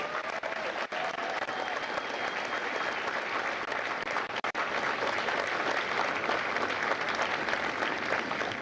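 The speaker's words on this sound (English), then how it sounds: "a round of applause for their dedicated service to Corps and country" Sustained applause from a graduation audience at Marine Corps Recruit Depot San Diego honours standing Marine veterans, a steady dense wash of clapping with a brief dip midway, alone without talk.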